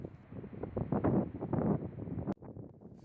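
Strong wind buffeting the microphone on open ground at Volunteer Point, East Falkland, a steady low rumble that swells and gusts, then cuts abruptly near the end to a much quieter hiss.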